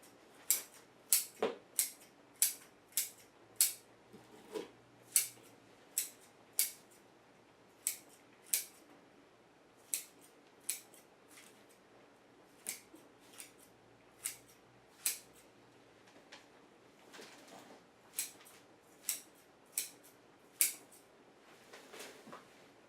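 Scissors snip at the roots of a small trident maple bonsai as it is repotted, giving a series of crisp, close, evenly spaced cuts with short gaps and no speech.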